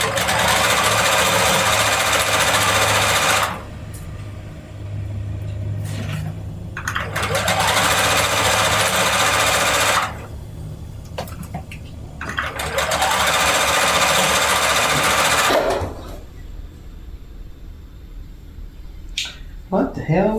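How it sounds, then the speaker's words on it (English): A sewing machine stitches glue-basted pixel quilt pieces in three long, loud, steady bursts separated by short pauses with handling noise, ending in quiet fabric rustling. "Take it straight to my machine. Make sure you're sewing the side that's glued."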